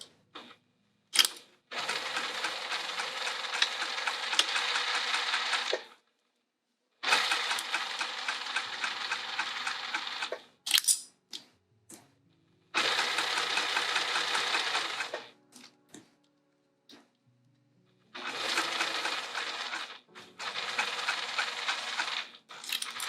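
Sewing machine stitching a spring roll pouch, running in several sustained bursts separated by short pauses, close and steady with no talking.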